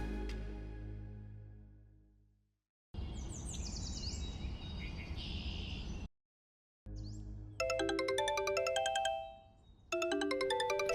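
A mobile phone ringtone rings early in the morning with bright, chirpy tones, sounding in two bursts separated by a short gap and playing alone without talk.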